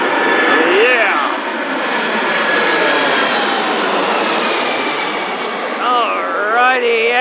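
Jet airliner engines roaring near Atlanta airport as a plane lands, a loud continuous broadband rumble and whine with brief voice radio chatter at the start and end.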